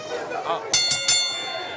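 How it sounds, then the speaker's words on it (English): At a wrestling match, the ring bell is struck three times in quick succession, the clangs ringing loudly through crowd chatter and commentary. "Referee calls for the bell"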